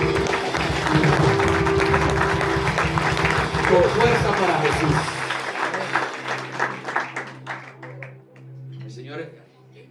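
A church congregation claps and cheers loudly while someone speaks over it, then the applause fades away, leaving a sustained musical tone.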